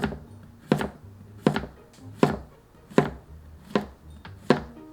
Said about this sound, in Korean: 애호박도 4등분으로 잘라주세요.